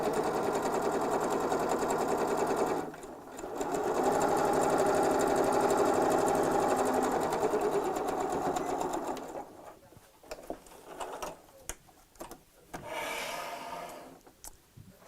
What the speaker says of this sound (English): we're just going to sew around the whole circle